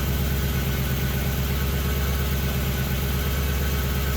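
A Lexus LS400 V8 idles steadily just after a starter motor replacement, a close, continuous low rumble with an even pulsing beat and no voices throughout.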